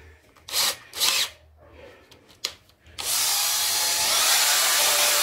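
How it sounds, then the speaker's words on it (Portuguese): A drill spins a bent brake caliper pin from a Honda CB450 twin front disc brake, starting with a few short bursts, then settling into a steady, loud, continuous whir. "Você pega eles, coloca numa parafusadeira ou então numa furadeira"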